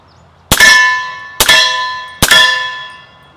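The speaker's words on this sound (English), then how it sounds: "Man, that steel is loud." Three rifle shots from a 300 Blackout AR-15, each ringing a steel target with a sharp metallic clang and a long bright ring, spaced about a second apart, loud and close with no talk.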